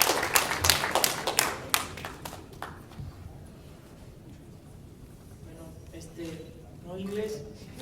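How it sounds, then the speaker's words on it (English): Applause at a boxing press conference, a few seconds of brisk clapping from a small crowd that quickly dies out, followed by quiet room tone and a voice starting to speak. "please give a round of applause for Jose Luis Uzcategui."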